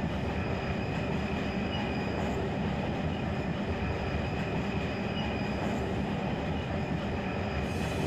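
A freight train in Run 8 Train Simulator III rumbles steadily along the track, a dense continuous roll of wheels and rail noise with faint squealing, with no break and no talk.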